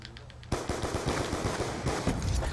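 Rapid automatic gunfire in Black Ops 2, a dense burst of loud close shots kicking in after a brief lead-in and rattling on without pause.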